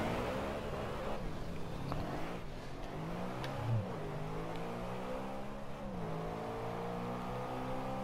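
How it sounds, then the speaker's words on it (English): A BMW M3 GTS sports car engine revs loudly and steadily, its pitch rising and falling in sweeping harmonic climbs across the whole stretch, close and dominant with no talk. "That car is so loud."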